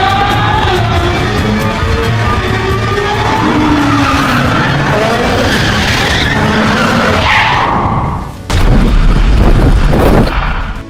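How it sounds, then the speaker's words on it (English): A Ferrari loses control, with a loud, sustained roar of skidding tyres and engine running for about eight seconds, then a brief cut and a heavy crash burst. "The Ferrari was completely destroyed in a violent crash."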